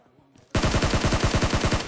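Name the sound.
gunfire in a video game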